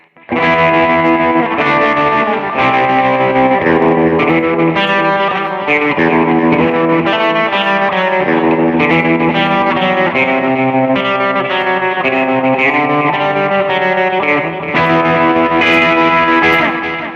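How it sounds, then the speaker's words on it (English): Distorted electric guitar chords through a BOSS eBand JS-10 with a pulsing tremolo, the volume throbbing rhythmically as the chords change, loud and continuous. "This tone does have a tremolo. I'll put it back on."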